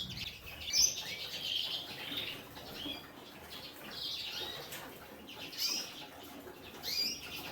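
Small birds in an indoor bird room with flight cages chirp in high, thin bursts, with soft wing flutters and patter spread throughout, moderately quiet and without talking.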